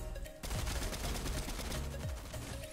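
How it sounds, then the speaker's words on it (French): Rapid gunfire from an opponent in the Fortnite video game breaks out after a short quiet moment. It continues as loud, dense bursts of shots with no speech. "Ah mais effectivement il me tire déjà dessus."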